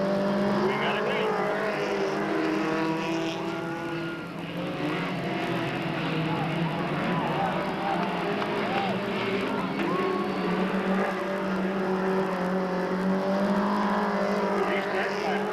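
Mini stock race cars roar around Delta Speedway during a final heat, a dense continuous engine drone with harmonic whine from several cars at once, loud and steady throughout, with a public-address announcer talking over the noise.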